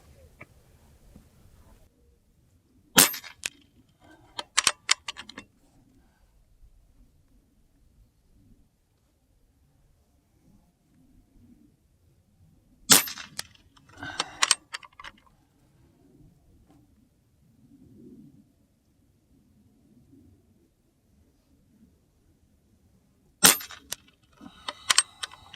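Three sharp, loud cracks from a .25 caliber Umarex Gauntlet air rifle firing JSB pellets, spaced about ten seconds apart. Each crack is followed by a brief metallic rattle, with quiet outdoor background between shots.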